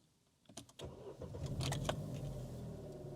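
Chevrolet Aveo with 28,000 miles cranks briefly and fires into a low, slightly lumpy idle, heard close but fairly quiet after a short pause and a few clicks.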